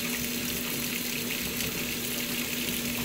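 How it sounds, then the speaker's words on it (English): A GE GTW680BS6JWS top-load washing machine fills with hot tap water, a steady hissing rush of water pouring into the tub with a faint hum underneath, continuous and close, with no talking. "I set it to tap cold, and now it's pumping straight hot water"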